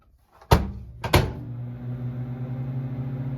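A microwave oven reheating a frozen Stouffer's roast turkey meal: two sharp thunks of the door or buttons, then a steady low hum as it runs, close and alone with no talking.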